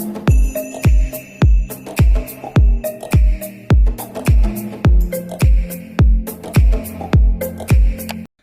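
Tropical house music from a FIFA game soundtrack plays with bright plucked, marimba-like notes and punchy kicks in a steady repeating pattern, loud and alone with no voices.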